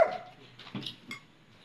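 A dog gives a few short barks and yips, moderately loud at mid distance, spaced over under two seconds in a quiet house at night.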